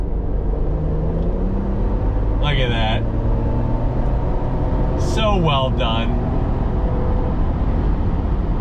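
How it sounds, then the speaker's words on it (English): Steady engine and road rumble from a 2021 Ford Bronco Wildtrak with a 10-speed automatic and EcoBoost engine, shifting tones as it downshifts under braking, with someone talking over it. "10 speed is downshifting very nicely"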